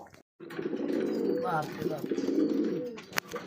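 Soft, low Fantail pigeon coos murmur steadily and close by at a pigeon farm, with a voice talking over them.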